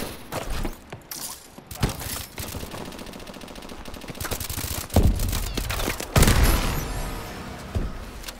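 Rapid bursts of gunfire from a Call of Duty: Advanced Warfare match, including shotgun blasts, with loud cracking shots and clattering mechanisms peaking in heavy volleys near the end.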